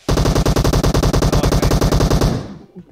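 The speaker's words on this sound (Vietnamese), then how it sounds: "em mới nghe nó bắn gần" Rapid automatic gunfire in PUBG Mobile rattles nonstop at close range for over two seconds, a dense burst of loud shots that cuts off abruptly.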